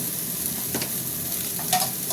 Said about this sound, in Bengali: বন্ধুরা, ব্রোকলিটা ভাজা হয়ে গেছে,